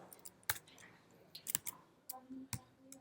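Computer keyboard typing code, a few scattered sharp key clicks and taps at an uneven pace, close and fairly quiet, with faint soft sounds between.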